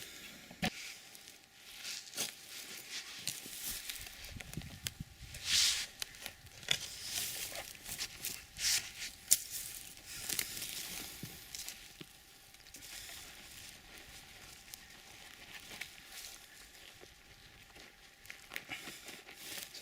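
A shovel digs into garden soil around a skirret root, with steady crunching, scraping and crumbling of earth throughout, moderately close and fairly quiet, with no voices.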